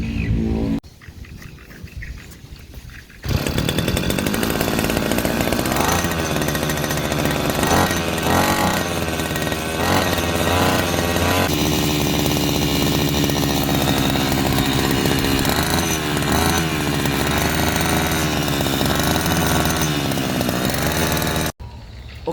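A Ryu RBC2T two-stroke grass trimmer engine idles briefly, then revs up to a loud, raspy, sustained buzzing whine that holds steady for most of the time before cutting off abruptly.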